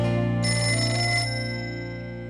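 A telephone rings in a Franklin the Turtle cartoon episode, a loud electronic trilling ring with a steady bell tone that cuts off midway and fades.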